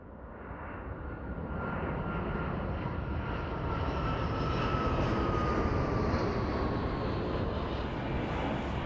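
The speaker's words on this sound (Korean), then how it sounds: "지금 비행기가 이렇게 뜨고 있지 않습니까? 지금 뜨고 있는 게 동서활주로." An airplane takes off from the east-west runway at Jeju Airport, a steady broadband engine roar that swells slightly and heard from some distance, with no talk.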